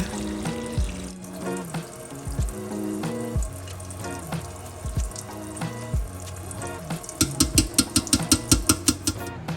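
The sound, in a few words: tap water flowing through a colander while rinsing tomato seeds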